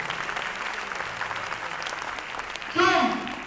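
A hall audience of women at an IMC RAS programme event in Kolkata clapping loudly in sustained applause, with a dense rattle throughout and a voice breaking in near the end.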